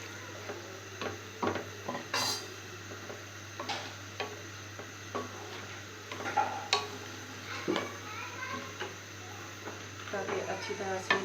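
Red kidney beans roasting in a pan, stirred with a utensil that clinks and scrapes against the metal in irregular bursts over a faint sizzle, close by, with a person talking throughout.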